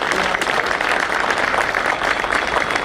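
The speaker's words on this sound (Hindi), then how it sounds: "और मैं चाहता हूं कि जोरदार तालियों से," Applause from an audience at a Bar Council of Delhi gathering welcoming a chief minister, a steady, dense patter of many hands clapping throughout, fairly loud and continuous with no break.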